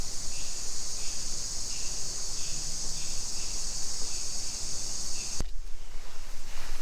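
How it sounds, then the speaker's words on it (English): Cicadas buzz in a steady, loud, high drone through the heat of mid-summer, holding constant for several seconds before cutting off abruptly near the end and leaving low background noise. "From about mid-July on, you hear this buzzing sound."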